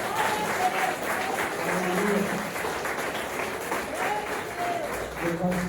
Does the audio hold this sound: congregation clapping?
yes